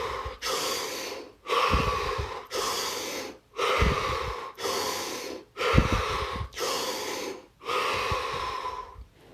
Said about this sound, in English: You're going to take 5 deep, deep breaths, which are expansive.